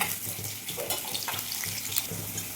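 Garlic and ginger fry in hot oil for a Kerala pearl spot fish curry, giving a steady broad crackling sizzle with faint watery bubbling, continuous and close throughout.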